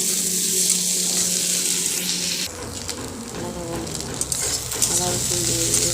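Spices frying in oil and stirred in a pan give a loud, steady sizzle, and about halfway through the tone shifts as scraping stirring strokes and light clinks join in, close up.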